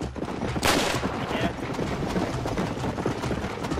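Video game gunfire rattles off in rapid bursts during a horse racing game, loud and close, with a heavy shot near the start and continuous firing after it.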